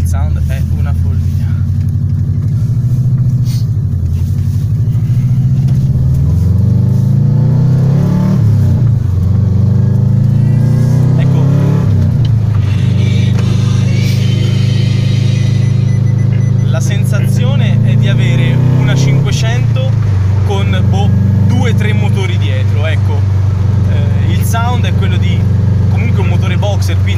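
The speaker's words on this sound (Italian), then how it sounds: "Quel suono del bicilindrico originale" An original two-cylinder engine revs loudly and close by, rising and falling through repeated throttle sweeps with a deep, rumbling drone. Voices talk over it in places.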